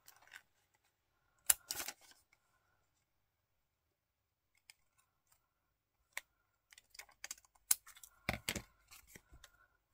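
Scissors trim excess paper from an art collage card in sparse, quiet, close snips and rustles, a short cluster early and a busier run of crisp cuts and paper handling near the end, with silence between and no talking.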